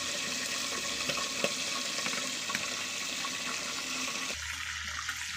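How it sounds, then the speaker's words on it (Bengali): Whole chicken roasts frying in a pan in a home kitchen, a steady close sizzle and crackle with small pops, shifting to a quieter, thinner hiss near the end. "দেখো, আস্ত রোস্টগুলো ভেজে নিচ্ছি।"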